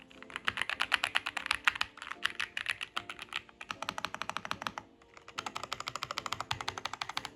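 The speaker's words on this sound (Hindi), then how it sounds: "तो आपने फाइनली इसका साउंड सुन ही लिया होगा एंड काफ़ी सुंदर कीबोर्ड भी है" Fast, steady typing on an RK75 mechanical keyboard fitted with Skycyan and K Silver switches, dense bursts of crisp clacks with brief pauses between runs, close and clear with no talking.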